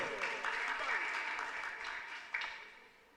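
Moderate applause from a school audience at a French-language quiz contest between two colleges, rising quickly, then thinning and fading, with a brief louder burst near the end.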